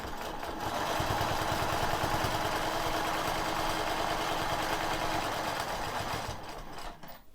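Sewing machine stitching a quilt in a square spiral pattern, a steady fast mechanical whir with rapid needle rhythm running loud and continuous for most of the clip before winding down at the end.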